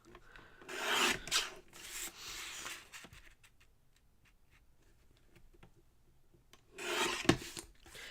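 A paper trimmer cuts card stock into squares, sliding with rasping, scraping strokes in two main bursts separated by faint ticks and quiet handling.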